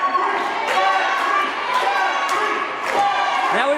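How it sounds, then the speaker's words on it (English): Wrestling crowd at an NWA Mountain State show in Hinton, loud and continuous, with rising shouted voices trading opposing chants for two wrestlers, plus occasional thuds; a commentator's voice runs over it. "Now we've got opposing chants."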